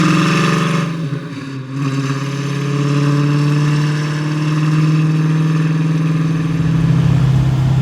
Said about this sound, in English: it's at the lower RPM, it seems like you're hearing the supercharger more.